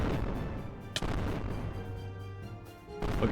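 Cannon shots in a Minecraft-style video game, a sharp blast followed by a rumbling low boom and another shot near the end, loud and close with no voices.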